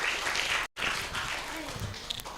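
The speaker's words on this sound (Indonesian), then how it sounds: "Tepuk tangan dulu buat teman kita ya." Audience at a talk show claps for a fellow participant, giving a short burst of fairly loud, mixed applause that briefly cuts out and then continues at a lower level.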